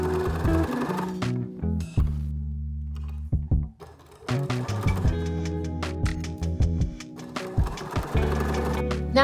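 A sewing machine stitches quilt blocks together in quick, rhythmic bursts of needle chatter, pausing briefly and starting again, loud and close with no talking.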